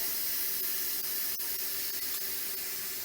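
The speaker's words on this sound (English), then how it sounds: "we would move the steam release handle to venting." Steady, loud hiss of steam venting through the release valve of an Instant Pot pressure cooker, continuous and close throughout with no talking.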